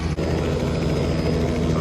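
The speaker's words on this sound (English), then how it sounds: "So here's the helicopter." A crop-spraying helicopter spraying potato fields for blight on a farm, a loud close steady rotor and engine roar filling the whole stretch.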